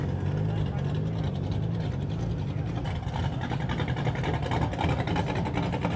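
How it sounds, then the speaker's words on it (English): A BMW E46 M3 rumbles steadily nearby as it pulls up at a car meet, a low, throaty tone, a continuous mechanical drone with some higher broadband noise over it. "E46 M3 pulling up."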